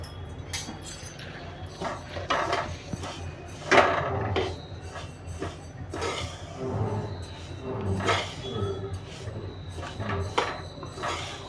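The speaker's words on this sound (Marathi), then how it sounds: "आता आपण एक तीळ भाजून घेऊया" Sesame seeds roasting in a pan on a low gas flame, heard as soft, steady scraping, rustling and clinking from stirring, close by and fairly quiet, with no talk.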